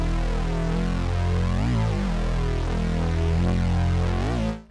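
A sustained, buzzy drum and bass synth bass note from a Roland Zenology Pro, played at minimum velocity, drones steadily with a slow throbbing pulse, dense and even, then cuts off abruptly at the end.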